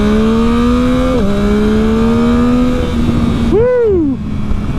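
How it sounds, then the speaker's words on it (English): A 2021 Yamaha MT-09 SP motorcycle accelerates hard and close, its engine note climbing through gears with a shift, then revving up and dropping sharply as the throttle closes. "Let's go ahead and just do a little acceleration test."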